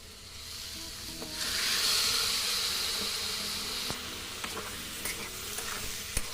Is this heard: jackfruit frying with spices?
yes